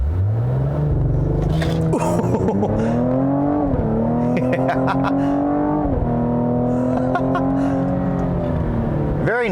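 A 2020 Cadillac CT5-V with all-wheel drive launching from launch control, its engine surging loud and close with rising pitch through the gears, a brief drop at each shift, and no voices.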